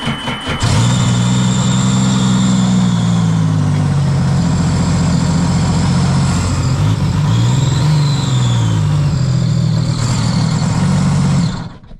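A Sea-Doo RXT 260 jet ski with performance issues runs loud and close, its engine droning steadily while the pitch swells and dips through a few uneven revs.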